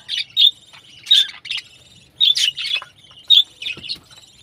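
Bright, high chirps from small green pet birds, with a breeding pair and chicks, in quick bursts, several calls overlapping with short pauses between, close and fairly loud.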